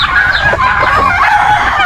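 On a farm, turkeys squabble with chickens in a loud, dense clamor of overlapping clucks and squawks that never lets up, with no one talking.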